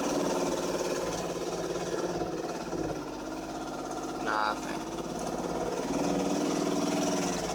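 A 2005 Dodge Magnum engine idling roughly, with hard starting, chugs steadily with a slightly uneven low rumble throughout, and a person talks over it.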